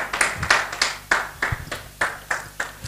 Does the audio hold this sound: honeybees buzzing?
no